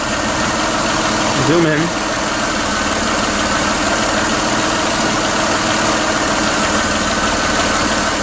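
A six-cylinder car engine idles steadily at close range with a continuous low rumble, while a voice speaks briefly over it.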